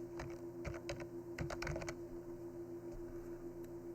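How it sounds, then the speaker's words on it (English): Quick bursts of close computer keyboard typing, a short run of crisp keystrokes in the first two seconds and then a few scattered taps, over a quiet steady electronic hum. "we're going to type vacation"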